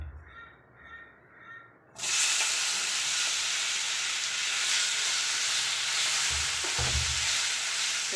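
Ripe plantain slices dropped into hot ghee in a pan start frying, a sudden loud sizzle that bursts in after a quiet moment and keeps going as a steady close hiss with a few soft knocks of stirring.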